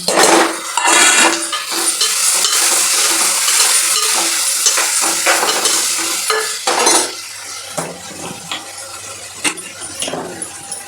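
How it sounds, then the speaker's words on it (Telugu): Tomatoes and fried onions sizzle steadily in a pan while a utensil stirs and scrapes, producing a dense, loud frying hiss with recurring clinks and knocks from the spoon against the pan. "ఉల్లిపాయలు వేగినాయి మనం ఇప్పుడు టమాటాలు వేసుకున్నాం"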